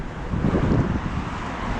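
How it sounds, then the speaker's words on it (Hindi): Cold wind blowing steadily outdoors in sub-zero Canadian winter, a continuous low rushing roar buffeting the microphone with no speech. "ओह ठंडी हवा चल रही है"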